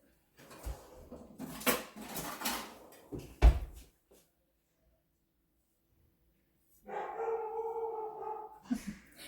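A dog barks several times in short bursts nearby, followed by a pause and then a steady tonal hum with clattering in a home kitchen where a mint chocolate birthday cake is being decorated.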